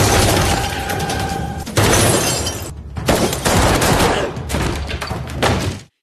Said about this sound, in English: the fight spreads into the bar area where bullets fly nonstop